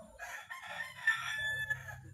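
Chickens on a farmyard, a rooster crowing loudly near the microphone over steady clucking and low fowl chatter from the flock.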